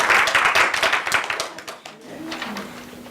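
Audience clapping during a workplace improvement report-out, a brief burst of close, fairly loud applause that fades within about two seconds into quiet room murmur.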